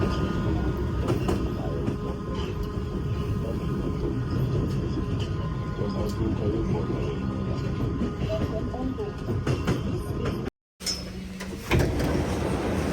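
A train in Hungary rumbles steadily from inside a carriage, a continuous low clatter and drone with people talking over it, then a brief dropout and a sliding-door-like clunk near the end.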